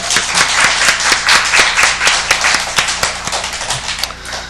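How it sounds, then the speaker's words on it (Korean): Church congregation applauding a pastor after a sermon, a steady, fairly loud patter of many hands clapping throughout, with a few sharper individual claps standing out. "박수 한번 드리겠습니다"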